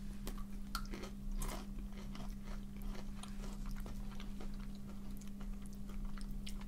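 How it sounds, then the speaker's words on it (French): Crisp crunching and biting of a Meiji Toppo chocolate-filled pretzel stick biscuit, a series of small sharp cracks close to the mic over a steady low hum, with no talking. "Ça croque."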